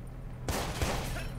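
Gunfire in the video game Watch Dogs: a sudden burst of shots breaks out of near silence and carries on as a dense, loud volley to the end.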